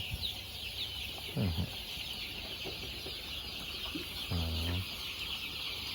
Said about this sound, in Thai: ไก่พวกนี้ชอบคุยเคียครับ